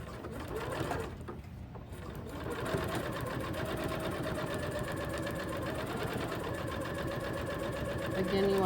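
A sewing machine stitching the flap of a messenger bag with a 3/8 inch seam allowance, a steady fast close mechanical whir with a brief pause near the start, with speech faintly present.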